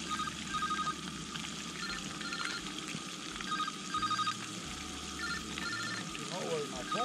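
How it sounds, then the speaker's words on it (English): Outdoors while fishing, a phone rings in repeated short bursts at moderate distance over a steady wash of ambient noise, with a low hum beneath. "Oh, I hear the phone."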